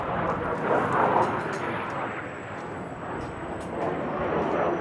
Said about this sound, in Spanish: Estos son los cazas porque tenemos la base aérea muy cerquita